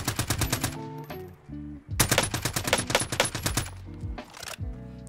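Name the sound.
gunfire in Call of Duty Warzone video game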